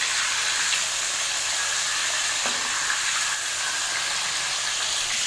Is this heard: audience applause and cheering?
no